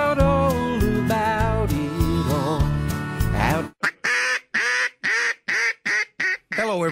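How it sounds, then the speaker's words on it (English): A Buck Gardner Double Nasty 3 duck call blown in a string of short, loud, raspy quacks with a steady rhythm, near and alone, after a stretch of music. "what you just heard is our all-new Double Nasty 3 duck call"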